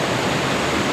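Rushing water at Old Wawa Dam in Rodriguez, Rizal pours in a loud, steady broadband roar, close and constant with no pauses or voices.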